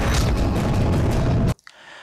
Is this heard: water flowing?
no